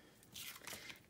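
A short burst of crisp snipping as scissors cut through twine, close and fairly faint, two quick cuts in about a second with no speech.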